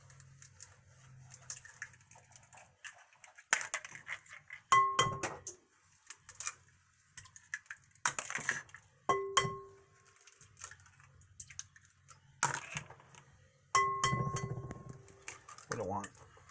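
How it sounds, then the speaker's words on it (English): Eggs cracked one-handed into a bowl for brunch frittatas: several sharp taps against the bowl, some with a brief ringing clink, spread out amid soft kitchen handling noises. "When you crack an egg with one hand, you want to hold it with your 2 fingers, your forefinger and your middle finger, and then your thumb"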